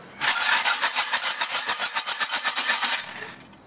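A capped engine part from a 1945 Briggs & Stratton Model WI is shaken hard with dry abrasive inside, giving a loud, close, rapid rhythmic rattling-hiss of grit swishing back and forth for about three seconds before stopping.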